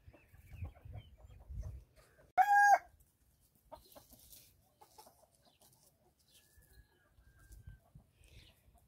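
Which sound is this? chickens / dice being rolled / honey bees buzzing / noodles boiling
chickens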